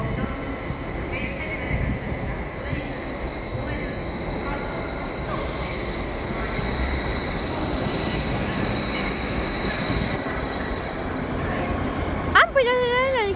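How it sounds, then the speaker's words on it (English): An LNER train passing on the line to Morpeth, a steady rumble of moving rail cars close by with squeals near the end, while people talk over it. "now we're going to watch this train go"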